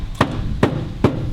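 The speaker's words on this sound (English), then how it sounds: "So I'm going to persuade it down with a hammer" A hammer taps a part down on a toolbox installed in the bed of a Polaris Ranger, with three sharp, evenly spaced metallic knocks close up.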